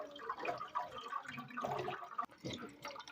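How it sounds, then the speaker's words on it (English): Blanched leafy vegetables for efo riro are rinsed under running room-temperature water in a home kitchen, a steady close splashing and trickling with no talk. "I'm just rinsing it very well so that we'll be able to get rid of any dirt or sand that is in it."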